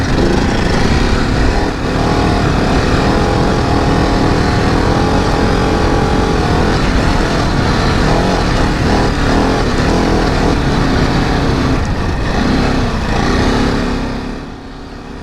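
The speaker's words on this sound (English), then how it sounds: "I'm just about to ride a DesertX up Big Red, 40 metres high, on this wonderful Ducati." Ducati DesertX motorcycle climbing the 40-metre Big Red sand dune in Australia at night, its engine droning steadily and loudly with a continuous rough roar that fades away at the end.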